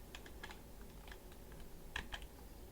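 Bursts of typing on a computer keyboard during Linux socket programming in C and Java, quiet irregular key clicks in short clusters over a low steady background hum.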